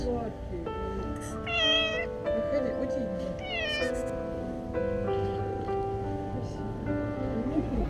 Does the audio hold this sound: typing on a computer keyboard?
no